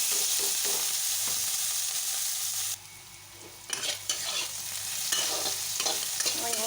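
Halved boiled soybean chunks fry in oil with cinnamon, cloves and small cardamom, a close, steady sizzle broken by stirring scrapes and a brief lull before the crackling returns.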